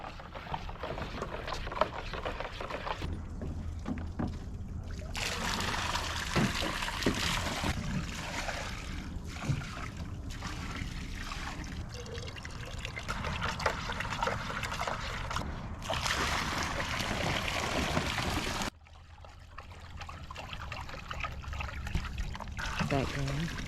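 Pool chemicals are dipped into a pail of above-ground pool water and then dumped out, giving sloshing, trickling and pouring sounds that rise and fall in bursts over a steady background.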